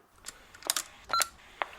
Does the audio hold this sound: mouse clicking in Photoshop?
no